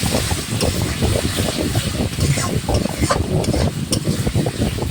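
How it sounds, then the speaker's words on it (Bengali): Spiced fish sizzles in a frying pan as a little water is added, a dense, steady crackle close by with busy stirring scrapes throughout and no voices. "হালকা পরিমাণে একটু জল দিয়ে দেবো"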